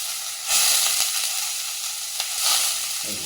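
Frozen green peas sautéing in ghee for a pulao: a loud, bright sizzle and hiss close up, surging as the peas are stirred, with no voices.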